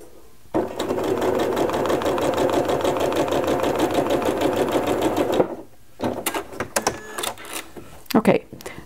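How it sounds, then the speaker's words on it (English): A sewing machine runs a quarter-inch seam on a quilt block, a fast close rattling stitch for about five seconds, then stops, followed by handling clicks and brief soft voice. "I'm just going to stitch a quarter inch away from the stitched line already"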